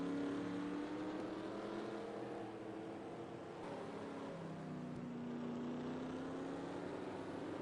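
Race cars in a NASCAR Busch Series road-course race at Mexico City, run in a racing sim, drone steadily as engine notes rise and fall while the pack laps the track, continuous and moderately loud with no talk.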